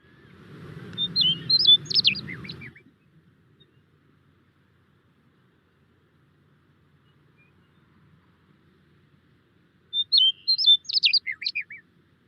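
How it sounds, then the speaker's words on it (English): A grassland songbird with a bright yellow breast and belly sings two separate bursts of descending, bubbling warble, close and clear, with a long silence between them and low rumbling under the first phrase. "It's described as a descending and bubbling warble song."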